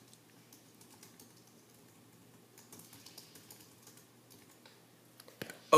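Soft, rapid clatter of keys on a computer keyboard as a search is typed into a database, faint and steady, ending with a sharper click or two.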